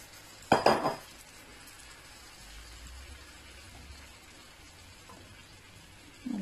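Peppers cooking in olive oil in a pan over low heat: a sharp metallic scrape of a utensil against the pan, then a low, steady sizzle, with another faint scrape near the end.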